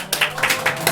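An audience at a live comedy show clapping, a short burst of applause with a few distinct claps standing out.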